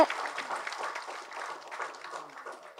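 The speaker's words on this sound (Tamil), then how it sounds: "கொஞ்சம் கைத்தட்டலாம், ஏன்னா பெரிய வேலை பார்த்துருக்காங்க" Audience applause at a political speech event in Tamil Nadu, a moderate steady patter of clapping from a crowd lasting a few seconds, slightly fading toward the end.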